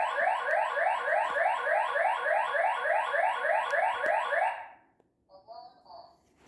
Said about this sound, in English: So let's open the back door and see what happens.